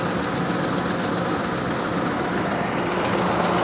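A Ford 5.4-liter truck engine idling, a dense, steady, loud rumble held without a break and with no voices.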